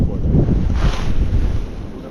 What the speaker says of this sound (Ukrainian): Роздуває боковий вітер уже такий